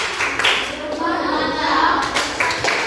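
A group of children claps together in a dense, continuous burst of applause, close and lively, with faint voices mixed in.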